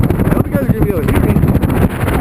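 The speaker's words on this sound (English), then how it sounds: "I wonder if you can hear that wind, because I sure can." Wind buffets the microphone on a bike ride up to a fire tower, a loud and constant rough rumble with no pauses.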